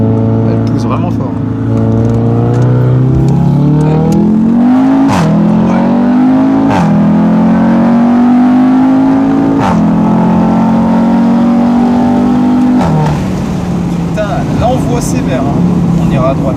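An Audi RS3 accelerates hard, its engine climbing through several gears in rising sweeps with short breaks at each shift, loud and close from inside the car.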